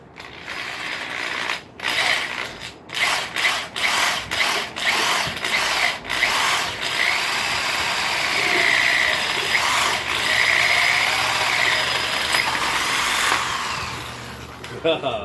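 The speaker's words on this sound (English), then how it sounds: "We're going to see if it'll actually drill a hole all the way through a pine wood 2x4" A variable-speed power drill with a hand-forged paddle bit bores through a pine 2x4, starting with short bursts and then settling into a sustained, loud whine with a faint grinding edge.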